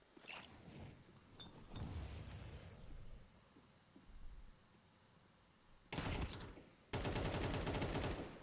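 Gunfire from rifles and pistols in a competitive Counter-Strike match, with scattered faint shots early on and then two loud, dense bursts of rapid firing toward the end.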